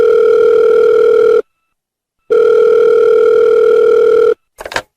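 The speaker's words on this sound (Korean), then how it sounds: "전화를 한번 해봐야 되겠네." A telephone dial tone sounds while a call is being placed, a loud steady tone in two long stretches separated by a pause, followed by a short burst of dialing noise.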